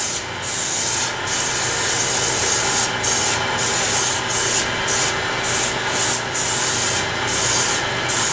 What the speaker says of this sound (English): Final sanding.